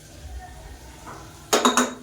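Metal utensils clink against a pot and serving bowl as mustard-seed, curry-leaf and asafoetida tempering is added to a lentil chutney: a soft clatter, then three sharp close metallic clanks near the end.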